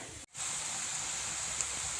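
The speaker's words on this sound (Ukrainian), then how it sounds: "Цибулечка з морковочкою смажиться." Chopped onion and carrot fry in a pan with a steady, fairly quiet sizzle that starts after a brief pause and then continues evenly to the end.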